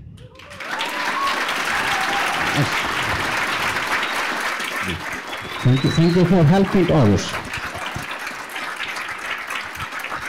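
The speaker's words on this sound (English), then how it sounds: "I want you to give her a good clap." Loud, sustained audience applause from a large crowd, continuing steadily for several seconds while a person speaks briefly over it and voices cheer.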